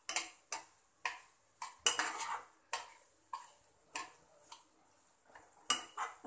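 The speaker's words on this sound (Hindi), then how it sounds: "अब मीडियम फ्लेम पर ही हम अपनी सूजी को अच्छी तरह से भून लेंगे" Semolina is dry-roasted and stirred in a pan over a medium flame for suji halwa, heard as a quiet series of about a dozen separate scraping clinks of a spoon against metal with short pauses between them. No voices.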